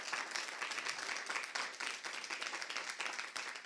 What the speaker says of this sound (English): Can we give them another round of applause, please?